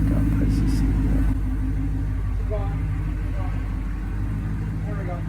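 A car engine restarts and idles in a cool, enclosed workshop, with a steady low rumble throughout and a brief higher clatter near the start.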